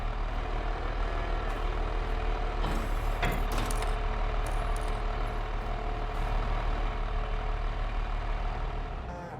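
Tractor engine idling in a farming video game, a steady low drone holding through the whole stretch with a brief mechanical clatter partway in, no talk.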